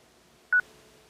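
A single short DTMF keypad tone sounds as a phone enters a meeting PIN for a dial-in call, one crisp beep in an otherwise quiet background.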